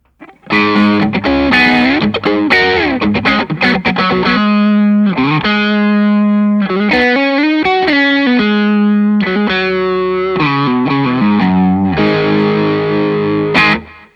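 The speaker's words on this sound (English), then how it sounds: "So this is the Analog Man brown mod." Electric guitar through an Analog Man brown-mod Tube Screamer overdrive playing a bluesy lead phrase with bends and sustained notes, loud and close, with a warm, gritty distortion throughout.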